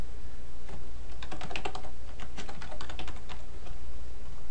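Fingers type code quickly on a computer keyboard, a close, crisp run of key clicks in short bursts with brief pauses, heard alone over faint background hum.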